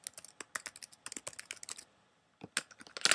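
Someone types a name on a computer keyboard, quick bursts of close, crisp key clicks with a short pause before a final flurry of taps.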